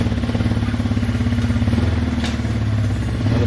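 A rebuilt Yamaha Wolverine ATV engine runs on a short ride with its parking brake and squeaky brakes noted, a loud, close, steadily pulsing idle-like chug with light rattle throughout and no talk.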